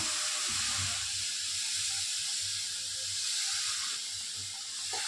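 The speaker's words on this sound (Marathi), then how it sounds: "ज्यात पाणी वतूया।" A glass of water splashes and hisses into a hot pan of roasting barnyard millet flour, a steady steamy sizzle with faint clatter underneath.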